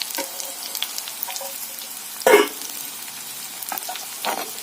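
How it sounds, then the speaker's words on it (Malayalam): Chopped onions being stirred and sautéed in a pan, a soft, steady sizzle with faint scraping and one brief louder clatter of the utensil partway through. "ചെറുതായിട്ട് അരിഞ്ഞ് വെച്ചിരിക്കുന്ന സവാള കൂടെ ചേർത്ത് നന്നായിട്ട് ഇളക്കി വഴറ്റാം"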